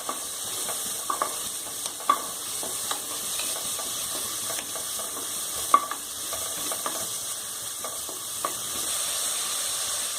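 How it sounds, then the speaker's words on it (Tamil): Tomatoes sauté in a pan for mutton leg soup, making a soft, steady sizzle with scattered clicks and scrapes of stirring throughout. "இப்போ தக்காளி போட்டு வதக்கிட்டு இருக்கேன்."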